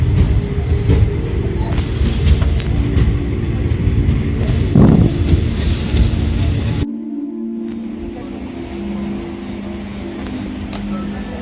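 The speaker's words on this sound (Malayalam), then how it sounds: "ഒരു മിനിറ്റിന് ശേഷം വണ്ടി തെക്കോട് റെയിൽവേ സ്റ്റേഷനിൽ നിന്ന് പുറപ്പെട്ടിരിക്കുകയാണ്" A heavy low rumble of an express train pulling away from Thikkodi railway station in Kerala fills the first part, then drops to a quieter hum with distant engine noise.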